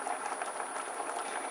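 A pot of porridge made from rice and rolled oats bubbles on a stove. The gurgling is soft, quick and irregular, heard close by with no talk.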